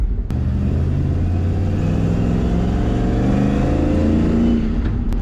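An old truck engine drives along, a loud steady rumbling drone with shifting engine tones as it pulls, heard up close and continuous throughout with no talk.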